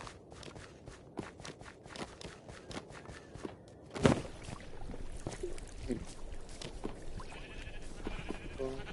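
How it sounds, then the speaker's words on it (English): Blocky sheep bleats from the video game Minecraft repeat through the stretch, mixed with clicking footsteps and game sound effects, fairly faint with a sharper impact partway through. "breed these random sheep, these random sheep, and then these random sheep"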